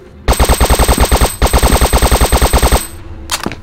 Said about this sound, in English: Any ammo for the P90, so I'm gonna be using it.